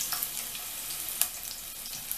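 Chopped garlic and green chilli sizzling in hot frying oil, a steady bright crackle with a few sharper pops, close and alone with no talking.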